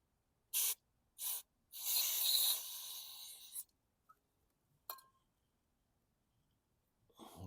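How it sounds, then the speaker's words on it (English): Carburetor cleaner is sprayed into the passages of a 2009 Toro Recycler lawn mower carburetor. Several close, hissing bursts follow: two short puffs, then a longer blast, then a few faint spurts separated by quiet. "Take a little carb spray and clean out these passages"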